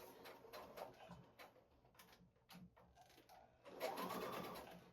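A sewing machine stitches fabric with the presser foot slightly raised, running in quiet, rapid mechanical bursts with brief pauses and a louder whirring stretch near the end.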